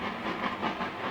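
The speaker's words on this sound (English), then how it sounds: "It's a little old U.S. mail buggy that runs on the railroad tracks." An old U.S. mail buggy rolls along railroad tracks, a steady rumbling clatter of wheels on rail, fairly close and continuous with no pauses.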